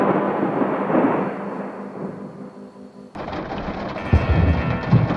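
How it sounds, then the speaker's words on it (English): Thunder from a close cloud-to-ground lightning strike in East Texas: a loud sustained rumble that fades, then a sudden sharp crack followed by heavy booming and rolling, with no voices. "Close cloud-to-ground bolts were crashing all around me, but this one was front and center."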